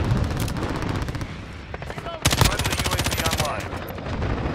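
Rapid automatic gunfire rattles loudly in a Modern Warfare Ground War match, a dense burst of shots with more scattered shooting around it, close and continuous.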